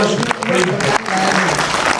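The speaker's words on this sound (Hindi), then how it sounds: "आप लोग तालियां बजाते हैं" Audience at a mushaira poetry recitation in Lucknow breaking into applause, a dense burst of clapping that surges, dips briefly, and continues at moderate loudness.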